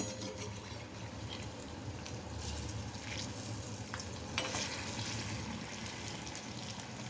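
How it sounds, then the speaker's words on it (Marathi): Vada fry in hot oil over a medium flame, making a constant, dense bubbling sizzle with occasional soft crackles, fairly quiet and with no voices. "जसा जसा खालच्या बाजूनी वडा तळला जाईल तसा तसा तो वरती येतो"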